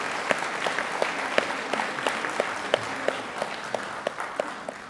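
Steady applause from an audience at a Catholic charismatic renewal national gathering, welcoming a nun; dense, moderately distant clapping continues evenly throughout without talk.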